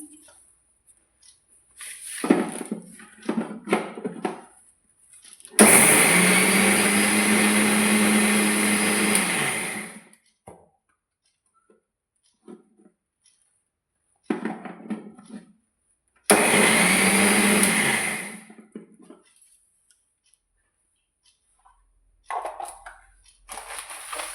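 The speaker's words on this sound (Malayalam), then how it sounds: "കുറച്ച് വെളുത്തുള്ളി എടുത്തിട്ടുണ്ട് കുറച്ച് ചെറിയ ചുവന്നുള്ളി എടുത്തിട്ടുണ്ട് ഇതെല്ലാം കൂടെ നമുക്കൊന്ന് അരച്ചെടുക്കണം" A mixer grinder whirs loudly as it grinds garlic and small red onions, in two sustained bursts of several seconds each, separated by quieter moments with brief clatter and handling noise.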